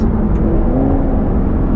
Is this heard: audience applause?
no